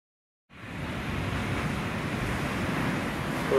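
Ocean waves and surf at Spouting Horn on the Oregon coast south of Yachats, starting abruptly as a steady broad roar with wind buffeting the microphone, loud and continuous with no talk.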